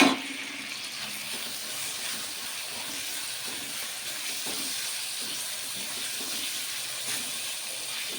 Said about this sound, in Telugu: కొంచెం వాటర్ యాడ్ చేద్దామండి